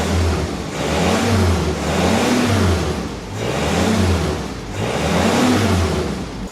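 A 1948 Willys CJ-2A engine at operating temperature in a garage revs up and settles back in three repeated throttle blips, its mid-pitched roar swelling and easing in an even rhythm.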